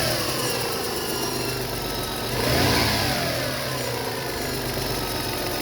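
Engine of a 1997 Lexus ES 300 with hard-start and idle trouble, running at a steady idle with a brief swell in revs midway before settling back to a faint, even hum.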